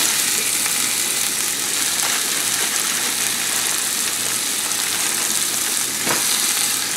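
Ground beef for chili fries in a pan with a steady, loud, close sizzle and crackle, broken by a few brief spatters and scraping sounds from a wooden utensil.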